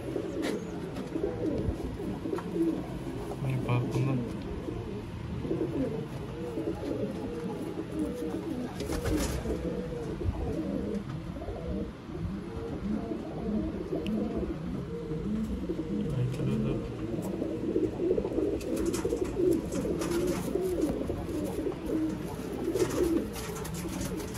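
Sialkoti pigeons kept for sale coo continuously and densely, with overlapping low, throaty calls close by throughout.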